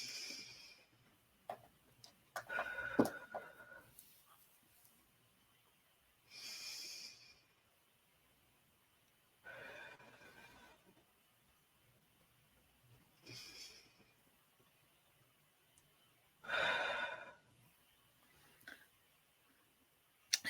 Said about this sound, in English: Can I get you to do 3 deep breaths in and out too?